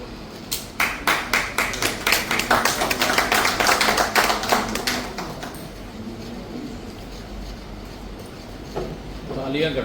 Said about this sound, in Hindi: तालियां घटती जाती है।